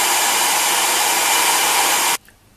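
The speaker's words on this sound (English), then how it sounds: "Carefully use the hairdryer to cook your can of peas." A hair dryer blows at maximum heat and speed as a steady, loud hiss of air, then cuts off abruptly near the end.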